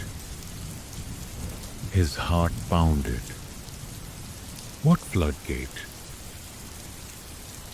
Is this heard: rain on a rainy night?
yes